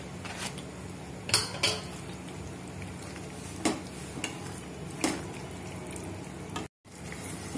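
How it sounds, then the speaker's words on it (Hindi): Pasta is stirred through creamy white sauce in a pan, a few sharp spoon-on-pan clinks and scrapes spaced irregularly over a steady low kitchen hiss, close and fairly quiet, with no talking. "और अच्छी तरह मिक्स कर लेंगे।"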